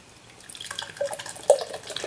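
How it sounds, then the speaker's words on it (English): Benediktiner Weissbier wheat beer poured from a can into a glass, a faint trickle with small splashy drips and fizz, quiet and close, no voices. "I can already tell it's hazy just pouring it out of the can there."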